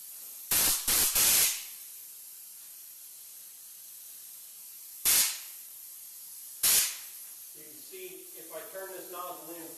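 Several short hissing bursts of a spray gun painting a car's interior, three in quick succession and then two more spaced apart, followed by a voice talking.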